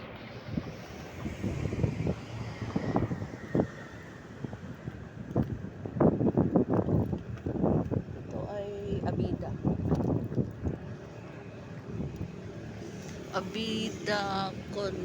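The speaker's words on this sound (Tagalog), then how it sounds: "Mahangin." Steady wind buffets the microphone with low rumbling gusts at a high point in Alabang Hills, while a voice talks intermittently underneath.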